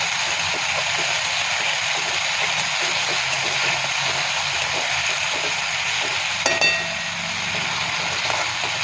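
Moong dal roasting in oil in a pan over a low flame gives a steady, soft sizzle throughout, broken once by a brief clink near the end.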